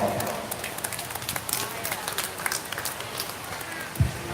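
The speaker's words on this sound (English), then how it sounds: "Let's go ahead and give both those individuals a big round of applause." An audience at the county fair's 4-H/FFA beef show gives a round of applause for showmen with their heifers. The clapping is moderate and continuous, with talk over it and one soft thump near the end.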